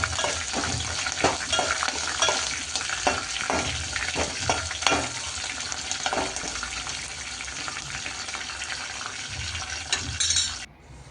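Green chilies and curry leaves fry in hot oil in a pan, a steady crackling sizzle broken by repeated stirring scrapes and clatters that quiets before the end.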